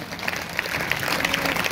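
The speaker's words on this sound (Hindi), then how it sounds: "अगर आए तो जोरदार तालियां बजाओ।" A church congregation at a Hindi-language worship service claps hard together, a thick, even wash of many hands at a moderate level with scattered sharper claps, and no voices over it.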